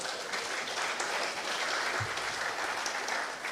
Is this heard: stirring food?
no